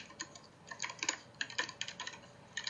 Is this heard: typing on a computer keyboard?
yes